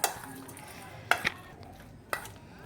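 Three separate scraping, clinking stirs of potato chaat with chanachur in a bowl, each a short sharp burst followed by quiet, spaced about a second apart.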